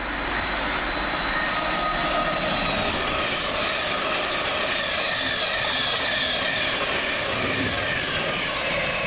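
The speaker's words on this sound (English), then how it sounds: "Heading southbound for Govia Thameslink is 700-152, working 9J33 from Peterborough to Horsham." A Govia Thameslink Class 700 train heading southbound passes through Welham Green station, a loud, continuous rushing rumble of wheels and motors at close range for the full length, with no voices.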